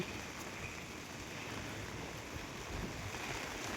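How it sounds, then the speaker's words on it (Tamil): Light rain falls in Adirampattinam, a faint, steady, even hiss with no distinct drops and no talk. "இந்த கனமழை தற்போது லேசாக தான் பெய்து கொண்டு இருக்கிறது"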